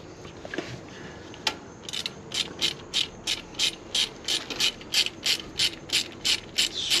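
Close, regular ratchet clicks tighten a brake caliper bolt on a Jeep Compass, about a dozen evenly spaced strokes in a steady rhythm after a quieter start.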